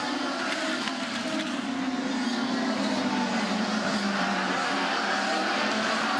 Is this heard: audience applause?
no